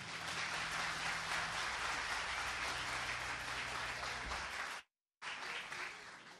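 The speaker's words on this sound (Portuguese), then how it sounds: "para o aplauso de vocês" An audience applauds a band member being introduced at a live concert, a dense, loud wash of clapping that runs steadily, cuts out briefly near the end, then resumes.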